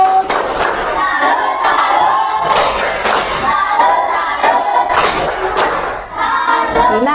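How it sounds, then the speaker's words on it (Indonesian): Children in an elementary school classroom perform the tepuk salut clapping routine, loud rhythmic clapping bursts mixed with chanted group voices and shouts, repeating in several short rounds. "Berikan tepuk salut."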